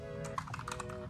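Typing on a Razer Huntsman keyboard: a quick, steady run of close, crisp keystrokes over a low background hum, with no talking.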